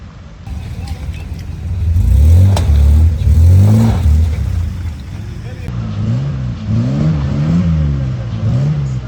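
An off-road vehicle at an Ardeşen off-road event revs hard in repeated rising and falling surges, loud and fairly close, while people shout and talk nearby.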